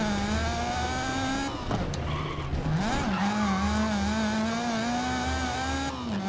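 Race car engine in the video game GRID, a hot hatch showdown, droning steadily with pitch rising and falling through gear changes, while tires skid and squeal loudly for several seconds mid-run.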